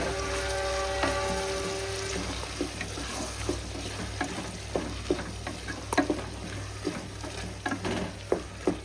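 Vegetables and ground spice paste fry in hot oil with a continuous sizzle, broken by irregular clicks and scrapes of a spoon stirring the pan, heard up close without talk.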